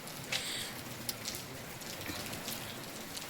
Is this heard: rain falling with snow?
yes